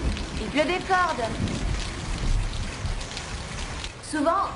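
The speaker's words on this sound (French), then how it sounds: "Il pleut des cordes." Heavy rain falls in a steady, dense wash, with louder patches that sound like rain on a surface, as voices speak briefly over it at the start and end.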